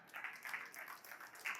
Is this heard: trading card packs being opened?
no